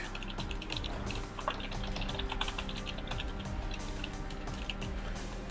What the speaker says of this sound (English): No, that typing was so loud.